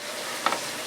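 Garlic sizzles in butter and oil with a soft, steady hiss. Two quick faint clicks from the pan or a utensil sound about halfway through.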